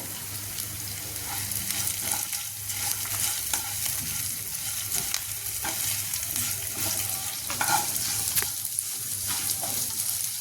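Masala with salt, chilli and turmeric frying in a pan for a moringa leaves and urad dal palya, a steady close sizzle with repeated scraping stirs throughout, no talking.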